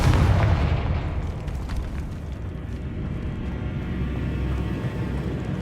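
Fiery blast of the Confringo spell in the Hogwarts Legacy video game, a heavy booming burst up front that trails into a sustained low rumble with no voices over it.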